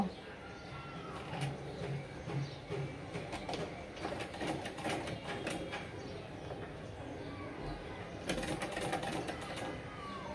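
A sewing machine runs double stitching through niqab fabric in uneven short bursts of rapid needle clatter, fairly faint against room noise.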